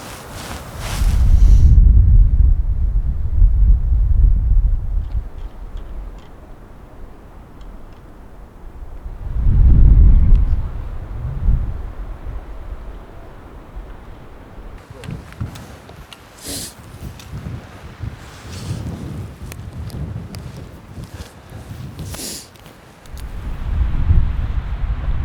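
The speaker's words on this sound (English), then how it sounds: "It's a windy night tonight." Night wind gusting in open New Mexico elk country, loud rumbling buffets hitting the microphone in several surges with quieter spells between.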